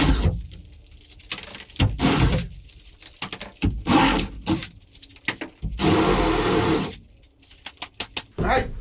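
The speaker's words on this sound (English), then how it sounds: "We're gonna do the hole saw thing around the old iron screws" Hole saw drilling around old iron screws in wooden boat planks, heard as loud repeated bursts of grinding and cutting with short pauses between passes, plus a sharp rattle near the end.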